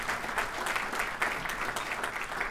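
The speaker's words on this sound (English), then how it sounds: "Give her a big round of applause also." Audience applause at a congressional State of the Region address, a steady dense wash of many hands clapping at moderate volume, continuous throughout without voices over it.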